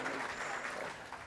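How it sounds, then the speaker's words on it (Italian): An audience at an end-of-season football celebration in a theatre hall claps together in a steady, dense patter of applause, moderately distant and fairly quiet, with no speech over it. "Un applauso al Cordenons perché ha conquistato la promozione."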